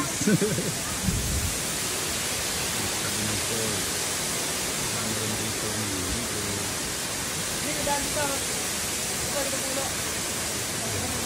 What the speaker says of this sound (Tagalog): Naririnig nyo ba yung lagaslas ng tubig na mula sa falls?